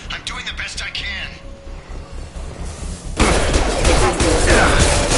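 Gunfire in the Mass Effect video game: dense, sustained bursts of weapon fire that suddenly swell louder partway through, layered with game sound effects and music.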